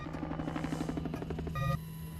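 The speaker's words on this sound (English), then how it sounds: "I was hearing an helicopter now." A helicopter in a Breaking Bad TV scene gives a faint, steady rhythmic rotor chop heard at a distance, with a short tonal whine near the end.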